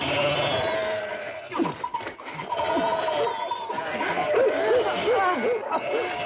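Sheep bleat repeatedly in a rural outdoor scene, wavering calls from several animals rising over a steady murmur of voices and background noise.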